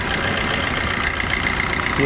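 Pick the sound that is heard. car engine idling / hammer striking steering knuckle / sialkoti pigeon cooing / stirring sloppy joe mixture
car engine idling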